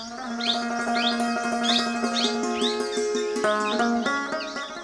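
An Indian paradise flycatcher (Terpsiphone paradisi) calls repeatedly in a monsoon forest, a steady series of harsh chirping notes over a dense backdrop of other birds and insects, with no voices.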